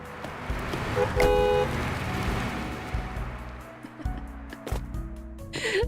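A car horn honks in the Waterpark Simulator video game: one short, clear toot rises over rumbling vehicle noise and scattered game sounds, with faint voices in the background.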